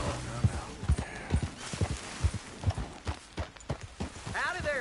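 Horse hooves clip-clop in Red Dead Redemption 2, a steady sequence of close, distinct hoof strikes with a brief whinny-like tone near the end and a voice speaking over them.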